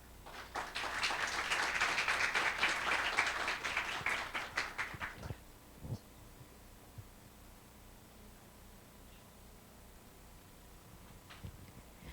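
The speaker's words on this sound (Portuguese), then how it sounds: "Uma salva de palmas, por favor." A short burst of applause from a small conference audience, lasting about five seconds before fading into a quiet room with a few faint knocks.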